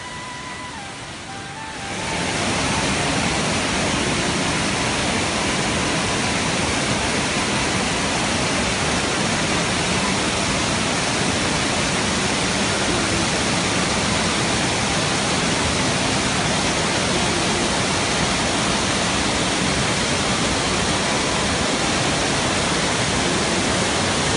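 A dense, unbroken roar of a waterfall at Bhandardara, India, swelling up after a quieter start and holding steady and loud throughout.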